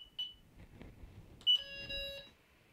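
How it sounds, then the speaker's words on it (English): Delkim fishing bite alarm gives short electronic beeps, then a sustained steady tone near 1.5 seconds, loud and close with no talk. "If I set off alarm four,"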